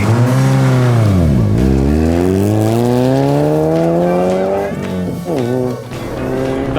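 A rally car laps a track with loud engine revs rising and falling through gear changes, a dip and climb in pitch, then brief sharp revs near the end.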